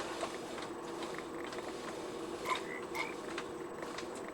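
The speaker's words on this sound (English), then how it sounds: "These frogs tend to suffocate a lot." Frogs croaking by a lake in Minecraft, a few soft, short croaks over a low steady game ambience.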